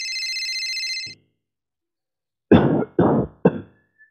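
An electronic telephone ring trills steadily for about a second in a night-time horror tale, then stops; after a pause come three sharp, loud coughs, close and alone, with no talk.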